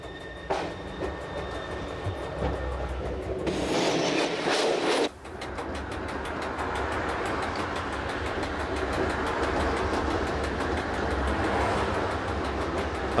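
Appenzell Railways rack train descending gradients as steep as 1 in 11 into St. Gallen, heard from inside: a steady loud rumble with rhythmic clicking wheel beats, briefly interrupted by a burst of brighter noise, then continuing as before.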